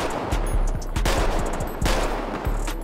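Handgun shots in GTA 5 FiveM with a modded gun sound pack, several loud close pistol reports in quick succession, each followed by a ricochet whine and echoing tail.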